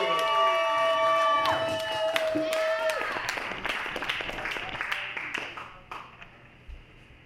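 A comedy club audience at a Valentine's showcase claps and cheers for a comedian taking the stage, with musical tones at first and the applause gradually thinning out and fading.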